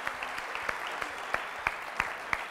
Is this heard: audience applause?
yes